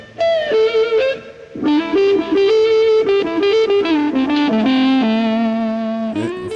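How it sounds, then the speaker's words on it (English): Electric guitar played with the woman tone, bass pickup selected and tone control rolled off; a smooth, muted, singing lead line plays loud and alone, with sustained notes. "it's called the woman tone. The woman tone is produced by using either the bass pickup"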